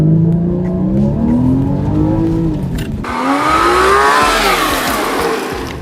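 A Porsche Cayman S launches from 0 to 60 mph, its engine note climbing steeply through the gears with a shift break partway, loud and close throughout.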